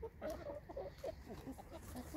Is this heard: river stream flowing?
no